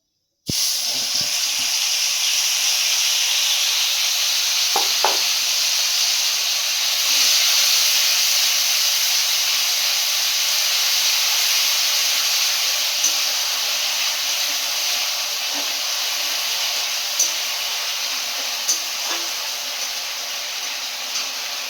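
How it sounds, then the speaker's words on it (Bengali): Spice paste of onion, ginger and garlic hitting a hot pan and sizzling, a loud, steady hiss that holds for twenty seconds, with a few faint knocks early on. "মশলাটা দিয়ে দিচ্ছি, এখানে পেঁয়াজ, আদা রসুন সব পেস্ট করা আছে, এটা দিয়ে দিচ্ছি"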